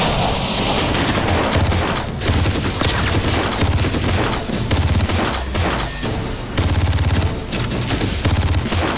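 Dense Far Cry 3 firefight with loud, continuous gunfire, rapid bursts and heavy booms from a grenade blast, sustained without pause and filling the scene at close range.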